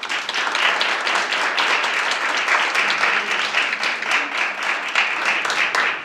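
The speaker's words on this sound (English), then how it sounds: "Let's give a nice round of applause to our candidates" Loud, dense applause from an audience at a League of Women Voters candidate forum in a county courthouse room, many hands clapping continuously and evenly for about six seconds without talk.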